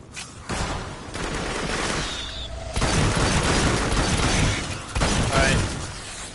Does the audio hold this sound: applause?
no